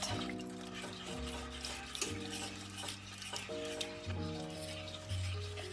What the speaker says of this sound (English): I'm putting the heavy cream in. And we're just going to keep whisking that to make sure that it doesn't get any lumps in it